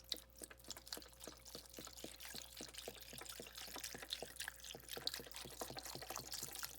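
Chicken bone broth pours steadily from a container into a crockpot over chicken, a faint continuous splashing and gurgling with small regular drips throughout.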